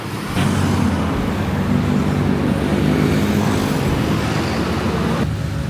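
Motorcycles and cars on a busy Jakarta street produce a dense, continuous roadway roar with engine drone throughout, close and loud with no break in the traffic wash.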